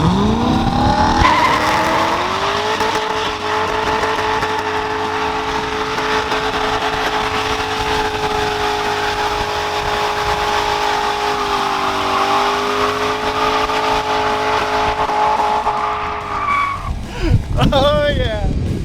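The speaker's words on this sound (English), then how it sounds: "let's get some rubber, baby" A car with its rear brakes deleted doing a burnout, engine roaring at sustained high revs while the tires squeal and skid continuously and loud up close, with voices briefly audible near the end.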